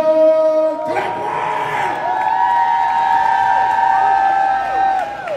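At a black tie affair, a crowd cheers and whoops loudly as Chef Latoya is welcomed on stage. Voices rise and fall across a few seconds, and tonal shouting and music-like tones ring above scattered clapping.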